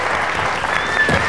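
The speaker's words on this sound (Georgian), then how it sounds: "აპლოდისმენტები." Applause from the audience at a Georgian school book-quiz competition, right after a contestant's timed blitz round: a dense, steady clatter of clapping filling the room at full volume throughout.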